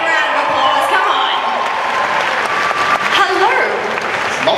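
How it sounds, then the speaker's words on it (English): Audience at a Sydney Supanova cosplay contest clapping loudly and continuously, a dense sustained wave of applause with some cheering mixed in and a voice talking over it. "Big round of applause"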